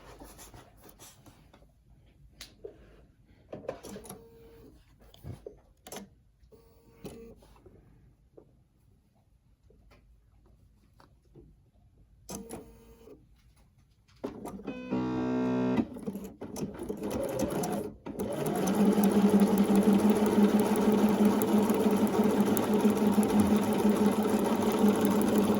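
A Bernina sewing machine stitches a quarter-inch quilt seam for a Kaleidoscope quilt block, starting with short bursts and soft handling clicks, then running as a loud, steady close-up whir for the final several seconds.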